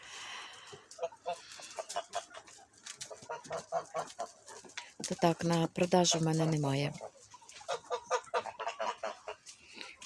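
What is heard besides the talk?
hens clucking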